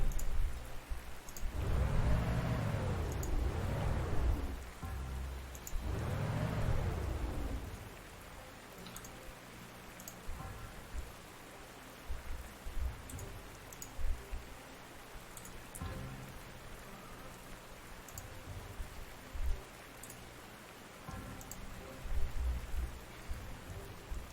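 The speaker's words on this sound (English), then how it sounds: "does anyone else like the sound of rain?" Steady rain patters across a battlefield in the wartime strategy game Panzer Corps 2, with a couple of low rolling thunder rumbles early on, heard alone with no voices.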